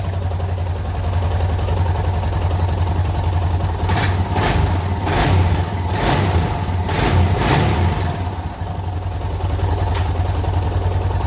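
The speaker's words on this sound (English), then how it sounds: "You can actually hear a little difference in the engine sound" A Suzuki DR650 motorcycle engine with a new K&N air filter runs steadily at idle with a low, continuous rumble, rising in a few brief revving surges midway through before settling again.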